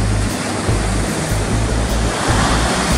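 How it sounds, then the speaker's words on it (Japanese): Knee-high ocean waves break at a home surf point on a nearly windless day, a steady, loud wash of surf filling the air with continuous roar and rumble, no voices. "海には波はありますがサイズはあんまりないですね"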